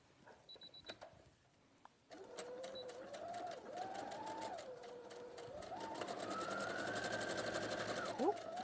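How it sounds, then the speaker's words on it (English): A sewing machine edge-stitches a seam allowance to a pocket bag, its motor whining steadily and rising in pitch as it speeds up, close and continuous for several seconds after a few light clicks. "So I'm just stitching close to that seam line there."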